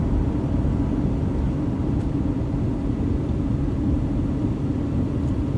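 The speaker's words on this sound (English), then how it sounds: "Plane right over the top of us, right here at UNLV." Airplane passing overhead near UNLV in Las Vegas, a loud, steady low rumbling roar that fills the whole moment without fading, with no voices.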